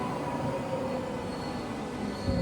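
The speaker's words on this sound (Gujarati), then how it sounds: "હવે જવાની ટ્રેન આવી ગઈ છે" A train arrives at a station with a steady, close rumble of rolling wagons and a thin, high wheel squeal running through it, and no voices.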